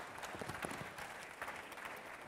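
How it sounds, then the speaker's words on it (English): Faint, distant audience applause at a social media in tourism masterclass at WTM 2016, a steady patter of many hands lasting a couple of seconds with no talk. "So round of applause, please."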